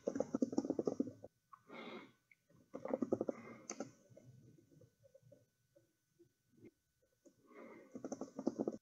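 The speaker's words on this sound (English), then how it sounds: "Let me just quickly type in some text here." Typing on a computer keyboard while entering text in a notebook, heard as bursts of rapid clicking keystrokes with short pauses between them, fairly close and with no talk over it.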